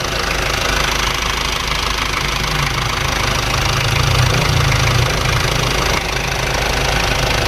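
An Isuzu Panther 2.3 engine runs steadily after a workshop service, a loud, continuous idle with an even mechanical rumble and no voices.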